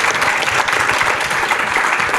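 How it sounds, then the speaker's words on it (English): An audience at a live talk and Q&A event breaks into dense, loud applause that carries steadily all the way through. "Let's give him a clap."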